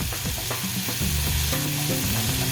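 Seasoned burger patties brown in a frying pan, sizzling and crackling steadily while being stirred and shifted around, with scraping and clinking of the utensil against the pan.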